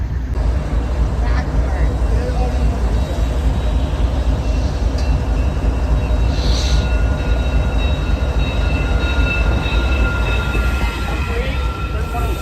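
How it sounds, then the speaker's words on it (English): A West Coast Express 30th anniversary commuter train rolls into a station with a loud, continuous low rumble and rail noise. Faint squeals and clanks rise over the din, and people are gathered on the platform. "I will check in with you guys again once the 30th anniversary train pulls up."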